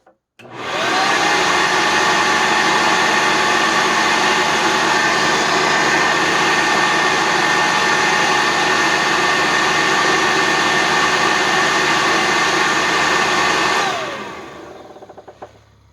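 A Sanitaire SC679K upright vacuum cleaner runs with its bag removed, a loud steady roaring whine of rushing air that holds for about thirteen seconds before winding down at the end.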